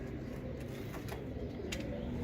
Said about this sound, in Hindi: ये ओरिजिनल कबूतर है रॉयल टेडी।